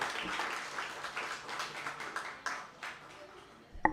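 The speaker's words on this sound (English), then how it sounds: "One more round of applause." A small audience at a spoken-word and poetry performance event claps and cheers at a moderate, fairly distant level, with a sharp sound right at the end.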